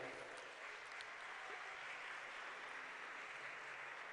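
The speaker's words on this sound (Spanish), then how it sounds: "A todos ellos les damos desde aquí un caluroso aplauso" A crowd applauds at an outdoor 12th anniversary rally for the Morena political party in Mexico, a faint, distant, even patter of clapping that carries on steadily throughout.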